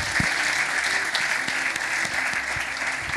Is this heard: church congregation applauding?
yes